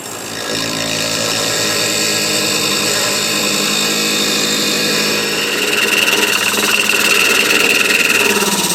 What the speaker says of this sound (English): get my little cutting wheel here